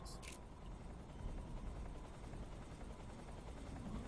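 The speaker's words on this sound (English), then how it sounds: "Is that a helicopter?" Helicopter in the Metal Gear Solid 3 Snake Eater HD remake video game, a steady rotor drone held at an even level throughout, with a brief high chirp near the start and no talk.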